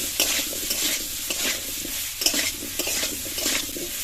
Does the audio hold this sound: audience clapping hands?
no